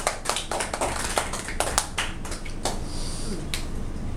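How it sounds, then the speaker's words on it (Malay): A small audience at a Malaysian Tone Excel member talk claps for themselves, a scattered run of sharp hand claps and snaps spread over a few seconds, fairly close and without speech. "Satu tepukan untuk diri anda."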